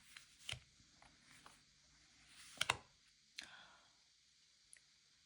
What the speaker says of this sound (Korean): 카드 뒤집어 보도록 하겠습니다.